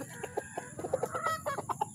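Hens cluck in short, quick bursts close to the microphone, several birds murmuring and clucking over one another.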